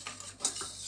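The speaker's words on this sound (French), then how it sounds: "je mélange" A spoon scrapes and clinks in a saucepan while sugar and cornstarch are stirred for a basboussa cream filling, a short burst of light metallic scraping, close and alone.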